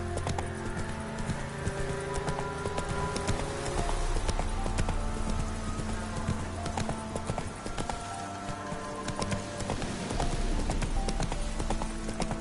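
Hooves of Roach, a horse in The Witcher 3, clip-clop in a steady rhythmic trot throughout, close and clear over a low ambient game background.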